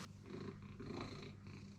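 A cat purrs steadily and close, in a soft continuous rumble that rises and falls with each breath and no voices.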